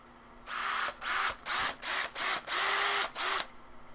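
A handheld power drill whirs in seven short bursts, spinning up and cutting off in a steady stop-start rhythm, close and fairly loud with no talking.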